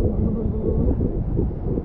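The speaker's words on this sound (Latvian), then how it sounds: "te augstā baigais vējš" Strong wind up high on a tall structure at the Ventspils aquapark in August buffets the microphone in a continuous, loud low rumble with no clear voices.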